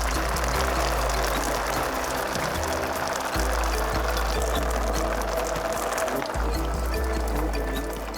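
Outdoor shower water pouring and splashing in a steady, close, continuous stream on a reality-show island set in Cambodia, with a low rumble underneath.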